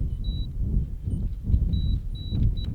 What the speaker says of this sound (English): Is that the right beep code?